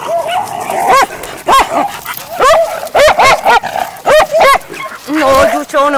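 Pocket beagles play together with rapid, close yips, short barks and whiny vocalizations, bursting out in a quick irregular series that overlaps at times.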